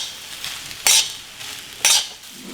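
Egg rice stirred in a hot pan, with two sharp bright scraping strokes of a spatula against the metal over a steady low sizzle of frying.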